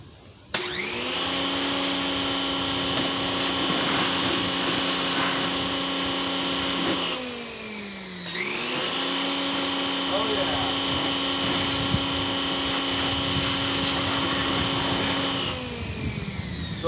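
A pressure washer runs steadily while spraying down the engine of a Bolens QT17 lawn tractor, a loud continuous pump drone with a brief dip midway, as degreasing continues around the drive shaft and cooling fan.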